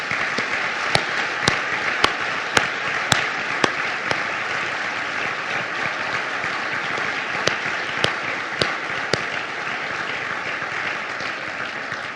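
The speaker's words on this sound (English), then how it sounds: "let's give them all a round of applause, please" Guests at the Erie Housing Authority's 75th anniversary gala dinner applaud the standing staff for over ten seconds, a steady wash of clapping punctuated by a few sharp, distinct claps near the microphone.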